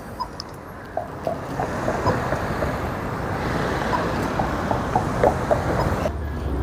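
A tram rolls along a Christchurch street, its steady low rumble and wheel noise holding at a fairly even level with faint squeaks and clicks on top, then dropping away abruptly near the end.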